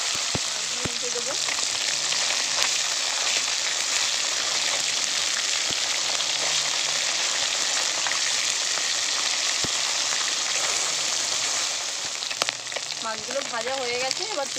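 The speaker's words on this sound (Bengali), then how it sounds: "মাছগুলো উল্টে দেবো।" Flipped pabda fish keep frying in hot oil in a karahi, giving a continuous close crackle and hiss with scattered pops, while a brief voice comes in near the end.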